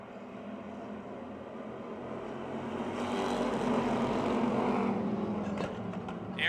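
Race cars roar back up to speed on a restart at Motordrome Speedway, a broad engine drone that builds louder in the middle and then eases, heard from a distance without talk.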